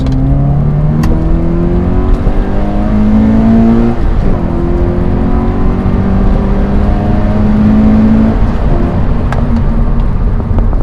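A Toyota GT86 engine fitted with a Mishimoto performance air intake revs and drops in steady waves with a deep, throaty tone, loud and close, with intake whoosh riding over the rumble.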